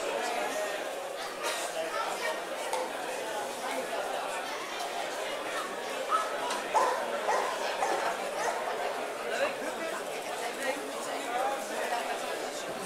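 Young police dog at a 2014 Dutch national dog trial, barking and whimpering in scattered bursts amid crowd chatter in an open setting, moderately distant and fairly faint.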